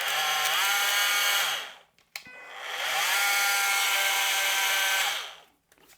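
A Makita cordless power tool spins up with a soft start, whirring loudly for a couple of seconds, stopping, then ramping up again and running before winding down.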